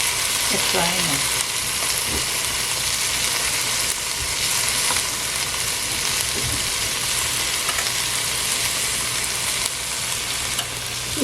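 Okra with lime fries in a pan, a loud, continuous sizzling hiss with a few brief scraping stirs, close up.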